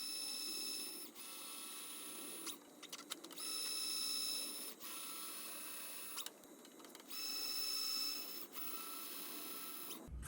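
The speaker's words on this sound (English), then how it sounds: "now we need to tap some M5 holes around the perimeter" A machine runs steadily with a whining hum while M5 threads are tapped into a metal part for a homemade metal 3D printer, the drone swelling and dipping in several passes with brief pauses between.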